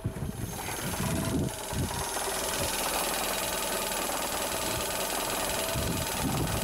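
A Citroën Saxo 1.1 engine idles steadily close by after a cold start, a continuous rumbling drone with slight knocking vibration and no voices.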